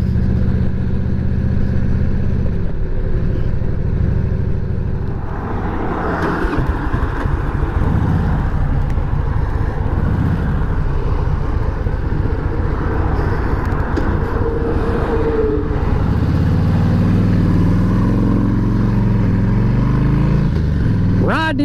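Harley-Davidson Electra Glide motorcycle engine running steadily at cruising speed, a loud continuous low rumble with shifting pitch as the ride goes on, sounding close throughout.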